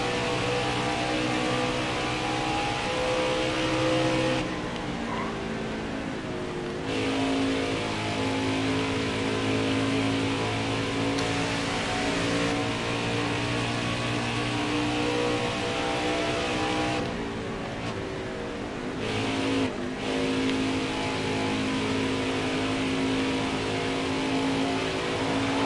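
Stock cars race in NASCAR Heat 4's Gander RV 150, with a continuous loud engine roar that rises and falls as the cars accelerate and pass.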